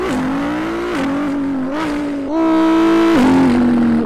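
A boy imitates sports car engines such as a Pagani Huayra with his voice, producing loud humming revs that rise and shift pitch in stepped bursts like gear changes.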